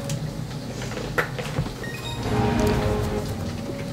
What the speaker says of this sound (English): I think it's raining now. Oh yeah, it's raining big time.